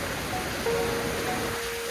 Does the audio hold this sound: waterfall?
yes